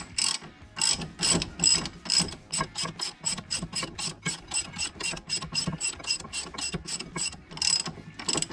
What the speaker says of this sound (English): Use the ratchet.